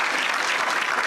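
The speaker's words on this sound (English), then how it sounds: "Let us give a round of applause to" A crowd at a rally launch event applauds in a brief, dense burst of clapping, heard alone for about a second.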